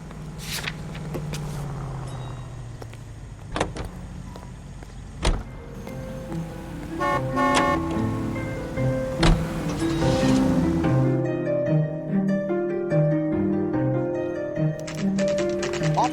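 A car drives in the video game L.A. Noire, with engine hum, door and mechanical clunks, and a run of tonal game music and effects layered over the motor, loud and close.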